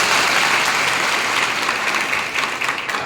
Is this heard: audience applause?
yes